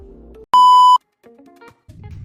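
An electronic buzzer wired to a breadboard kit gives one loud, steady, pure beep of about half a second, with short quieter electronic tones before and after it.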